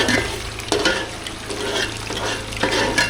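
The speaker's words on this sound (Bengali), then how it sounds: "কিছু লেগ পিস এখানে এই যে মশলা দিয়ে দই দিয়ে ভোনা করতেছে" Chicken leg pieces fry in a pan with spices and yogurt, a steady close sizzle broken by recurring stirring scrapes and clatters, with no talk over it.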